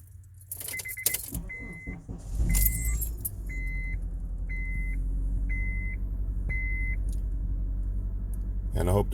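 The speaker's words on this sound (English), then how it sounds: "I'm going to start the car." A Honda car is started: keys jingle, a chime beeps steadily, then the engine cranks and catches at once and settles into a steady, close idle rumble that runs to the end.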